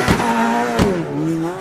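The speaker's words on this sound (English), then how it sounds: "It's a Subaru. It's a gymkahana 2." A Subaru Gymkhana 2 rally car held against its rev limiter, a loud close engine note bouncing with two sharp pulses and a wavering, slightly falling pitch, no voices.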